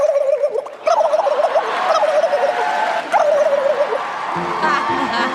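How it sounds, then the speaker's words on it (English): A turkey gobble, loud and close, with rapid rattling bursts repeated a few times and a brief dog-like bark near the end. "Turkey."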